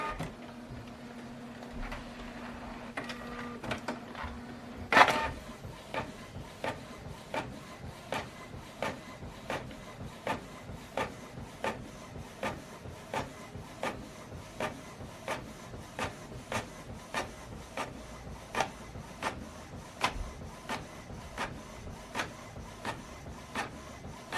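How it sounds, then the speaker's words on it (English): A printer runs steadily, with a rapid regular series of mechanical clicks and thumps over a low whirring hum, plus a louder clunk early on. "So now this document is going to print out from this printer"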